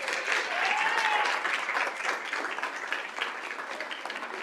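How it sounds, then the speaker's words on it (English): Audience applause for honorees at a school board governing meeting, a sustained round of clapping from a room full of people, steady and fairly loud before thinning slightly toward the end. "So one more huge round of applause for our honorees."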